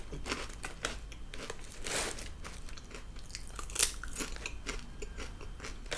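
Crunchy bites into thick Lay's cucumber-flavor potato chips, a series of sharp crisp snaps and crackles recurring through the stretch, close and fairly loud, with no talking.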